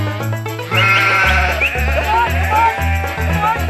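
A sheep bleats, wavering and clear over loud music with a strong beat and backing tones, setting up sheep farmer Phil from Pembrokeshire in a game show, with no talking.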